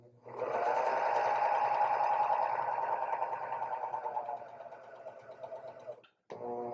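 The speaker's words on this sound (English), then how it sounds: "we're going to start by serging the edge as normal" A serger overlocker runs fast and steady for several seconds while finishing a fabric edge, then slows and stops, with a brief whir starting again at the end.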